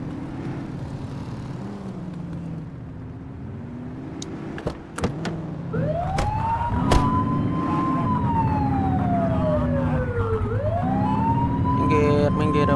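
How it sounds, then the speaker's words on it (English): A police car siren in the video game The Precinct starts wailing after a brief blip, rising and falling loudly over steady engine and traffic noise, with voices briefly in the background. "You're only meant to use the siren in emergencies."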